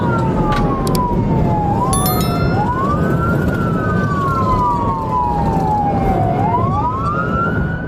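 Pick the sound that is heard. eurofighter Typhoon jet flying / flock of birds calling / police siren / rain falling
police siren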